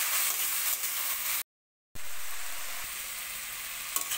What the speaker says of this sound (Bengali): এই যে দেখো আলুটা ভালো করে ভাজা ভাজা করে নেব।